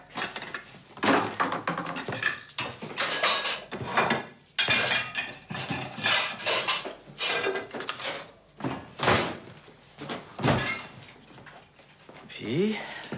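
Dirty plates and cutlery clatter and clink as they are loaded into a dishwasher in a home kitchen, with repeated busy knocks and rattles throughout, mixed with people talking.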